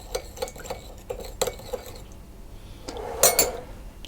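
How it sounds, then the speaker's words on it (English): Baking soda stirred into milk with a spoon in a bowl or jug, a string of close metallic clinks and scrapes, then a louder burst of rapid rattling stirring toward the end, with no talking. "I'm going to put the baking soda into the milk and give that a mix round to dissolve it"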